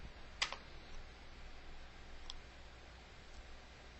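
A single sharp computer mouse click, close and quiet, followed by a fainter second click about two seconds later, over a low room hum with no talking.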